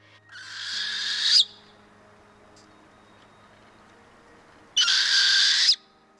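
A northern hawk owl gives two harsh, screeching calls, each about a second long, separated by a pause of several seconds, loud and close over a faint low hum, with no voices.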